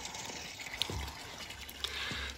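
Cold mountain spring water trickles and gurgles into a buried 2,000-gallon concrete cistern in a gravity-fed off-grid homestead system. The flow is faint and continuous, with a couple of small splashes.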